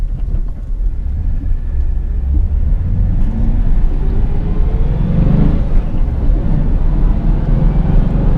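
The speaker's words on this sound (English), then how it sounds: "A little bit harder acceleration here." A Chevrolet Silverado extended cab pickup with a five-speed manual accelerates hard, heard from inside as a steady, loud low engine rumble and drone that builds gradually with road noise.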